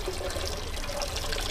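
Water runs through the inlet into a toilet cistern with a steady, moderately quiet trickling flow and no talking.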